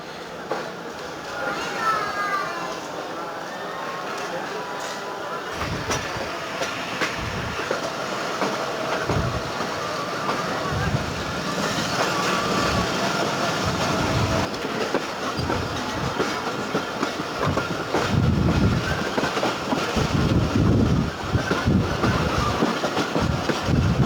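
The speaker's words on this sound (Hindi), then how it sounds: "ट्रेन हमारी जो है वो गुजर खान से डिपार्ट हो चुकी है।" A passenger train on the Pakistan line between Gujar Khan and Jhelum rolls steadily with a rumbling clatter of wheels on track, heard from inside among faint voices and children's sounds, growing louder toward the end.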